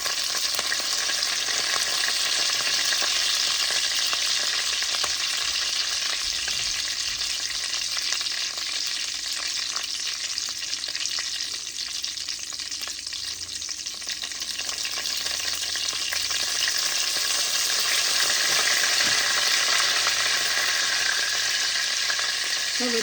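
Dried red chillies and curry leaves crackle and fry in hot oil alongside mustard seeds and fennel, a steady dense sizzle that holds close and loud throughout with faint stirring clicks.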